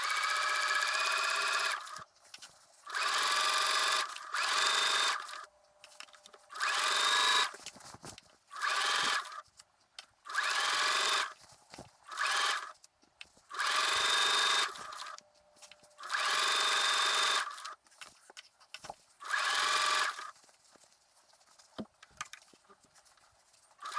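A sewing machine stitches a sleeve cuff seam in repeated bursts of fast, whirring running, each lasting a second or two, separated by short pauses, close and clear with no talking.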